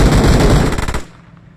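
Loud, close automatic gunfire in the shooter game PUBG Mobile: a rapid burst of shots for about a second, then cutting off into a fading tail.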